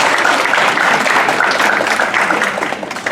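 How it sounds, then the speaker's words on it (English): Keynote audience clapping for themselves, a full burst of applause in a lecture hall that holds steady and then starts to taper off near the end. "Clap for yourselves."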